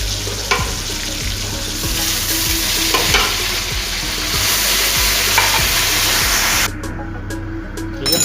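Chicken stock (yakhni) poured over frying chicken in a pan for pulao, a loud steady sizzle and spray hiss with repeated stirring scrapes, the roar dropping away abruptly near the end.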